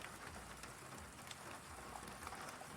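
Rain falling during a thunderstorm in Sioux Falls, South Dakota, a steady dense hiss of drops on surfaces with no break, faint and even, no voices.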